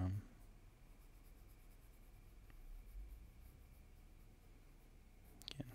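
A pencil sketches on paper while a goblin is being drawn, giving a faint, steady, close scratching with a brief louder rustle near the end.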